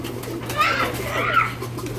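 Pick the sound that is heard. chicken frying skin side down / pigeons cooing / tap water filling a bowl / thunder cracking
pigeons cooing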